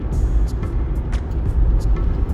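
A car climbs the steep mountain road to the summit of Doi Inthanon in Thailand, with a loud, steady low engine and road rumble broken by a scatter of short, sharp ticks and clatters.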